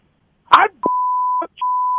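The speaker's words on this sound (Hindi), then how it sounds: "मैंने कहा मैं मोंटी को खुद मैं फोन कर देता हूँ" A phone call's ringing tone sounds as a steady electronic beep that holds for about half a second, pauses briefly, then resumes, following a short burst of nearby noise at the start.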